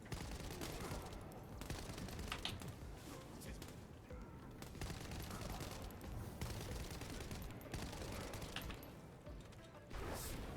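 Rapid assault rifle fire in The First Descendant video game, dense bursts of shots mixed with impacts and effects, heard faintly under a speaking voice.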